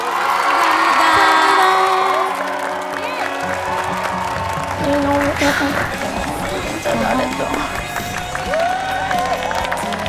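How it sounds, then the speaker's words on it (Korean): A studio audience on a televised trot singing competition cheers and applauds, with a loud burst of clapping and shouts at first, then a lower crowd murmur under continuous talking. "두 분께 응원의 박수를 부탁드립니다"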